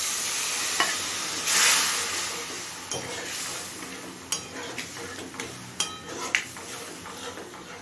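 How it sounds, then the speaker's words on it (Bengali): Chhana is stirred with tadka dal in a pan over steady sizzling, with a series of distinct spoon clicks and scrapes against the pan in the second half. "ডাল দিয়ে সব কিছুর সাথে মিশিয়ে নিয়েছি"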